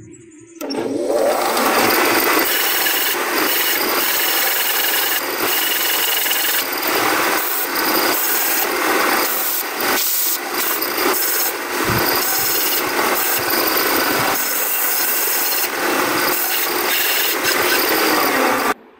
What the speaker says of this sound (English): You'll notice I use this back and forth motion there on the belt sander